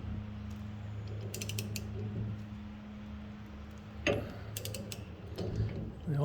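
A steering wheel puller is cranked down on a Willys CJ2A steering wheel, making intermittent ratcheting clicks and metallic creaks over a low steady hum, with a sharper burst of clicking partway through.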